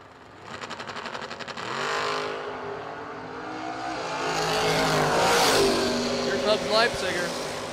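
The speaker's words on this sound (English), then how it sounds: "Rob Leipziger brings up the Corvette" Corvette race car engine on a race track, a buzzing engine note that rises and swells as cars accelerate past, with a race commentator talking over it throughout.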